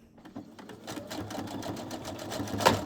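Sewing machine stitching nested fabric seams, a fast rhythmic mechanical patter building steadily louder up close, with a sharp clack near the end; no talking.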